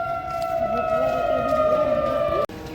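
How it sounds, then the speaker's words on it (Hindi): A dam's water-release warning siren near Srinagar, Uttarakhand wails as a steady, sustained tone from a distance, continuous for over two seconds before being cut off abruptly. "जब वहाँ से पानी छोड़ते हैं तो ये सायरन बजाते हैं।"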